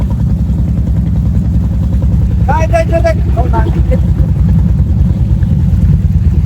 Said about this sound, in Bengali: এই যে দেখুন আমাদের আরেকটা এই যে টুরিস্ট বোট যাচ্ছে